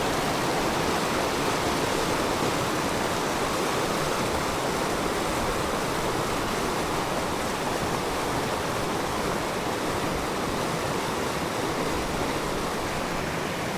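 Steady roar of a waterfall beside a river fishing spot, broad and constant rushing water close by with no breaks and no voices.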